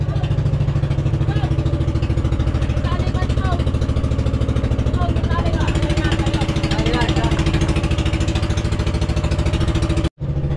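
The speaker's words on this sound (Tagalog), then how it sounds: "Isang makina pa lang yung nakaandar. Pinapaandar pa lang yung pangalawa." A fishing boat's engine runs loud and steady close by as the first of two engines idles during a test, with a continuous throbbing drone and a sudden brief cut just before the end.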